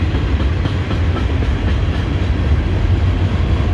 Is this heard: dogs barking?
no